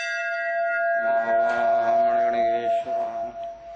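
A metal bell rings at a Hindu temple in Varanasi, a sustained, resonant tone with clustered strikes and lingering overtones that fade toward the end, with no talking.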